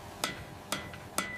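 Hot steel being hammered at a forge while making a katana: three sharp metallic strikes spaced about half a second apart, fairly quiet and close, with a faint ringing tone after the last blow.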